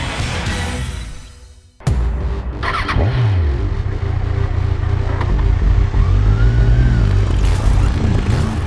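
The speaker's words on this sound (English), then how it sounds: "So when you trigger that 1043cc 4-cylinder motor and hit the road" A Kawasaki Z1000 with a 1043cc four-cylinder engine fires up after a brief lull, then revs and accelerates hard in rising and falling sweeps, loud and close, with no voices.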